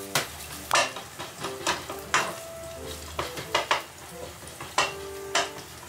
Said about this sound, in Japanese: このアンチョビを潰していくと